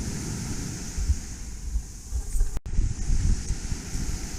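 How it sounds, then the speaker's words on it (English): Strong ocean waves wash in at Grand Anse Beach, Grenada, as a continuous broad surf roar mixed with gusty wind buffeting the microphone, briefly cutting out midway before resuming. "the waves are really, really strong"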